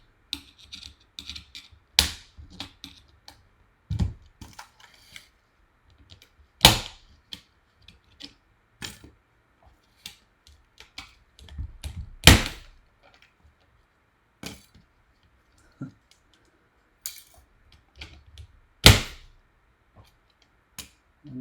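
Keycaps being pried off a DEC LK201BA keyboard during teardown: sharp plastic snaps and clicks at irregular intervals, several loud pops standing out among smaller rattles and fiddling, close up with no talking.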